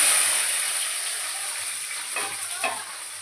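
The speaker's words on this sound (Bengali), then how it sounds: "জিরে, কাঁচা লঙ্কা, তেজপাতাটা আমি দিয়ে দিচ্ছি ফোড়নে" Cumin seeds, green chilli and a bay leaf crackle and sizzle in hot ghee, a steady close frying hiss with a couple of sharper spits near the end.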